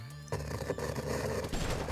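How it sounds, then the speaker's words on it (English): Dense, rumbling bursts of distant battle explosions and gunfire-like cracks in Lobotomy Corporation roll on continuously, loud and chaotic, with no voices. "Wailing from afar, and some battle explosions."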